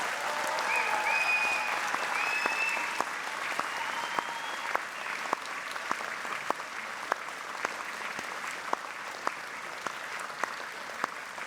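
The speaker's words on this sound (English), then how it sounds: "by giving them a warm round of applause." An audience applauds graduates at an engineering and information sciences faculty graduation ceremony, steady dense clapping that fills the hall and then thins to scattered individual claps near the end.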